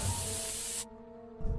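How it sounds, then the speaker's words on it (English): Pepper spray hissing out in South Park The Stick of Truth, a strong steady aerosol spray for nearly a second that cuts off sharply, followed by a brief faint rustle. "I will pepper spray you back to the Stone Age"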